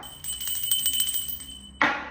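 A small hand bell rings quickly and steadily for about a second and a half with a sustained high tone, then a short clunk.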